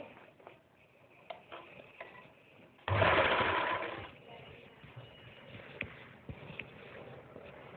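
A sewing machine stitching a Patiala salwar belt, a short loud burst of rapid mechanical whirring for about a second in the middle, close by, with quieter handling clicks and rustles before and after.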